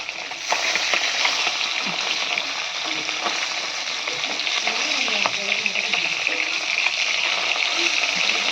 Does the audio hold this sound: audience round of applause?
no